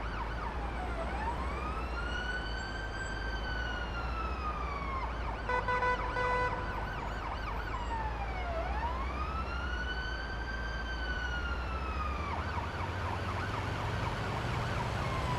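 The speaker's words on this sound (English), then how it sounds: "Wish there was a way to mod the siren." An ambulance siren from the Ambulance Life video game wails in long, repeating rising and falling sweeps, loud and continuous, over a steady vehicle hum.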